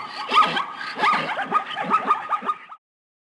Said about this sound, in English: You heard a zebra?